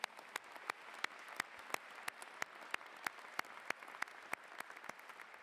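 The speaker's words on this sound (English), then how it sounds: "we can still clap for her right now" A commencement audience gives faint, sparse applause for an award recipient, scattered individual claps over a thin, distant crowd wash.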